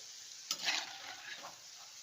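Baby corn fries in hot oil over a medium flame, a soft, steady sizzle with a brief louder burst of crackling as pieces are stirred, then settling back to a faint, even hiss.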